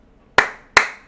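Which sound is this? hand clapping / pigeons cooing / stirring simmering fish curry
hand clapping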